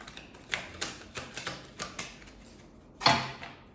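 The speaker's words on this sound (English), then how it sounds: "let me get all the cards out" Tarot cards are handled and laid out on a counter: a run of light, crisp taps and snaps, then one louder, sharper slap near the end, all close by with no talking.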